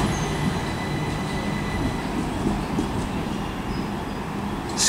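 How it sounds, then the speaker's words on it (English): A Class 377 Electrostar electric train at Lewes station squeals steadily as it moves, a continuous rumbling rail roar with a thin high-pitched wheel squeal running through it, heard alone. "Squealing away, as it always does, because it's a lovely electro star."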